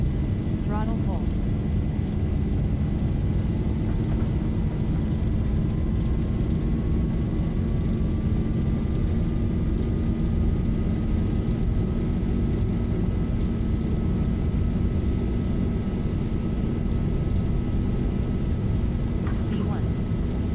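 Jet engines spooling to takeoff thrust in a flight simulator running the Zibo Mod airliner: a loud steady roar with a slowly rising whine, continuous throughout, with faint cockpit voices underneath.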